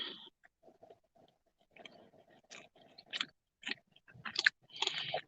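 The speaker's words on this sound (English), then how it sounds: "I'm almost done with my bagel, which means I'm about to get on." Close-up chewing of a toasted sesame bagel with cream cheese, soft moist mouth clicks and chomps in an irregular rhythm, growing louder and crunchier toward the end, no talking.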